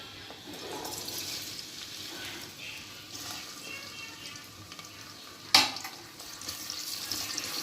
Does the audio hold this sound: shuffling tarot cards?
no